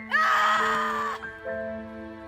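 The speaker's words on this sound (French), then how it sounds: "hurle à la mort." A panicked young woman at a campsite lets out a loud, sustained scream that wavers in pitch, then drops to a lower, strained wail before a brief break and a weaker continuation.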